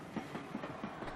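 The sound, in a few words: branch train at railway station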